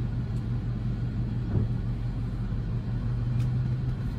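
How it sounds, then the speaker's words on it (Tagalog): Tricycle motor on a steep mountain road, a steady low rumbling drone heard at moderate distance and fairly faint, with no voices over it. "Makina."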